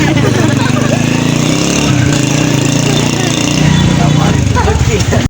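A Suzuki motorcycle engine putters along at a steady mid pitch through narrow lanes in Dera Ismail Khan, close and fairly loud, with a busy street murmur mixed in.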